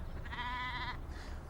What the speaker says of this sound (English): Its coat is white and woolly. Sheep.